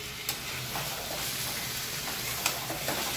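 Chicken being stir-fried (kosha) in oil that has already separated, giving a steady close sizzle with a few sharp spatters and light stirring scrapes, with no talking.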